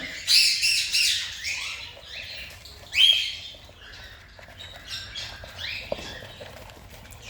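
Baby pet birds squawk and chirp in bursts while being hand-fed, the high cries coming close and loud at first, then fainter with soft rustling between calls; no one speaks.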